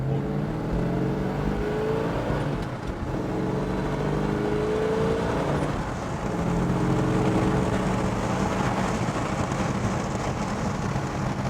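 A 1968 Plymouth Road Runner with a 426 HEMI V8 and four-speed manual pulls through the gears, a loud, continuous engine drone rising and falling in pitch with shifts, heard from inside the car.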